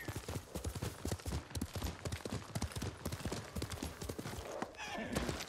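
A horse gallops and jumps in the video game Ghost of Tsushima, with rapid rhythmic hoofbeats throughout. A brief rustle or landing comes near the end, and faint talk can be heard underneath.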